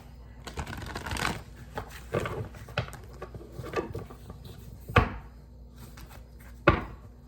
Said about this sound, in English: let me do 5 shuffles just to make sure that they are mixed up